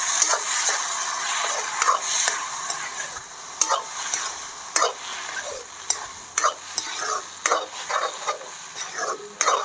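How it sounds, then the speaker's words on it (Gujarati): Boiled urad dal being stirred with spices in a hot pan, a spoon scraping and clacking against the metal in irregular strokes over a soft sizzle, close by with no voices. "અને તેને મસાલા સાથે સરસ મિક્સ કરી લઈશું."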